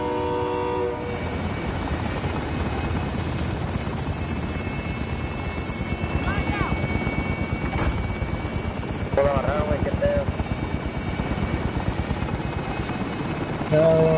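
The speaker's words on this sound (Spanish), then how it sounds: "Gente atrás, helicóptero." A helicopter in Call of Duty Warzone throbs steadily with rapid rotor beats, loud and continuous, under game sound effects and players talking.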